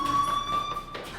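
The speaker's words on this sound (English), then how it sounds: "Hey, do you hear that fire alarm?" Fire alarm inside a school building in the Life is Strange video game, a steady high electronic tone ringing continuously with a faint ringing overtone, heard indoors at moderate level without talk.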